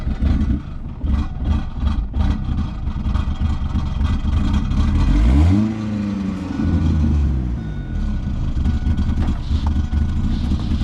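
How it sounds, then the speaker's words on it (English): A Ford Focus ZX3 with a Comp Cams camshaft and Flowmaster exhaust idles with a choppy, lumpy rumble, then revs up once in a rising and falling sweep before settling back to a rough idle, close by. "this thing's pushing a comp cam system, Flowmaster exhaust"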